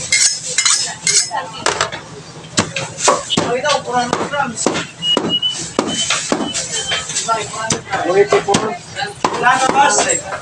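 Meat being chopped into large chunks for Bicol Express, with repeated sharp knife strikes on a board and clinking utensils in a busy kitchen, under background chatter.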